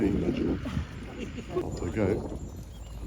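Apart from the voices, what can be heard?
horses walking, ploughing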